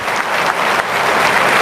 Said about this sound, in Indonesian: Terima kasih Kang Dede, kita kasih tepuk tangan